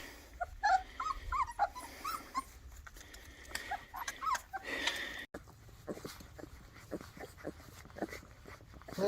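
Young puppies feeding together up close, with small whimpers, yips and grumbles over busy wet eating noises, continuous and lively throughout.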